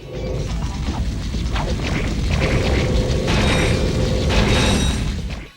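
Loud mechanical clanking and whooshing bursts from the Suck Cannon weapon in Ratchet and Clank, with ratcheting clicks and heavy crashing impacts layered over a steady hum.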